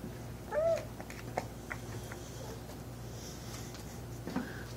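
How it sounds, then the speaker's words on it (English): A cat gives a single short meow near the start, fairly close, then only quiet room noise with faint soft sounds follows. "Where's the kitty?"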